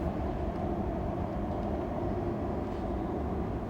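Trains at Den Haag Centraal station produce a continuous low rumble and roar, heavy in the bass and steady in loudness, with no voices.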